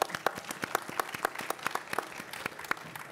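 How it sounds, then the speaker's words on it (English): Audience applause at a panel event on inclusive cybersecurity strategies, a scattered, fairly light round of individual claps with sharp uneven hits, moderately close and fading slightly toward the end, with no talk over it. "please give us a final round of applause"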